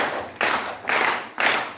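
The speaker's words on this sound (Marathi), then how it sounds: "तर या सगळ्यांसाठी टाळ्या वाजवायच्या आपल्याला." Children clapping hands together in a classroom-style group activity, three distinct bursts of applause close by with short gaps between them and no talk over them.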